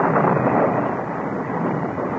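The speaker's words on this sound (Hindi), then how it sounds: "धीरे धीरे बादल भी गरजने लगे।" Deep, continuous thunder rolls low and heavy through a storm over a river, a sustained rumbling wash with no breaks and no voices.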